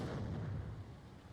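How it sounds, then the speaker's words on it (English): Artillery fire in the Final Assault VR battle game: a dull, low, booming rumble that swells at the start and slowly fades, heard faintly at a distance and alone. "But artillery is shooting"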